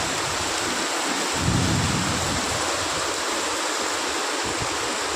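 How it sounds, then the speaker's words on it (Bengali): Heavy monsoon rain pouring down on a street, a loud dense continuous roar close by with a low rumble of thunder swelling briefly partway through. "খুব বৃষ্টি হচ্ছে।"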